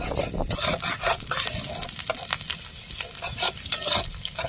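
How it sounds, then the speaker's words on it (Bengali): Chopped ginger fries in a pan with a continuous sizzle, punctuated by scraping stirs of a spatula against the pan, close and fairly loud with no talking. "তো এবার দিয়ে দিলাম একটুখানি আদা কুচো, একটু ভেজে নেব।"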